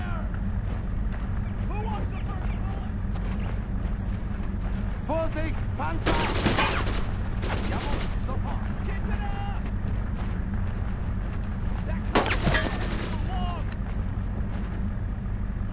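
Rifle and machine-gun fire with artillery in the WWII shooter Brothers in Arms: Road to Hill 30, a steady battle din broken by heavy, loud bursts of shots, with voices shouting orders over it.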